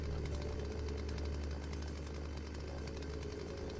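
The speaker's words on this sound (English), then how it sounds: "I'm actually really disappointed I can still hear the chainsaw." A chainsaw runs in a zombie survival video game, a constant droning engine buzz that holds steady throughout at moderate loudness, with no talking over it.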